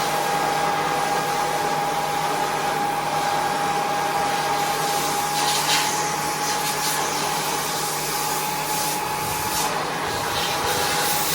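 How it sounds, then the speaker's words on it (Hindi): A vacuum cleaner runs steadily during house cleaning of a master bedroom, a loud constant motor whine with a fixed tone, close and continuous throughout, with no talking. "वैक्यूम क्लीनर की मदद से।"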